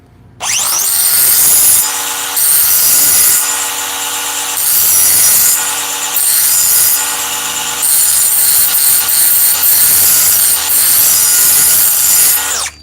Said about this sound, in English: I love this little cutoff wheel.